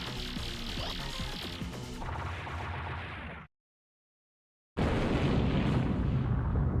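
Loud burst of booming blasts and crashing debris as a boss is destroyed in the Rayforce arcade shooter, a dense roar of explosions that cuts to silence for over a second before another heavy rumbling explosion resumes.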